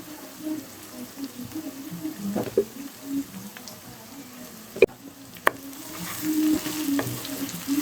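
Spices sizzle and fry in a pan of potato and brinjal curry while being stirred, a steady close crackle with a few sharp spoon knocks against the pan midway.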